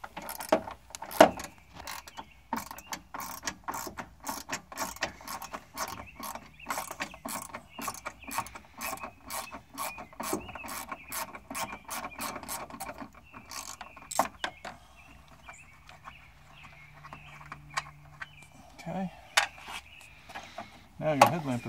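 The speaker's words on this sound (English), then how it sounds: "So here we've got our trusty Torx 20. Goes in just like this." A Torx 20 driver turns headlamp screws on a 2004 Land Rover Discovery Series 2, giving a long run of close, steady ratcheting clicks that thin out and end with a few handling knocks.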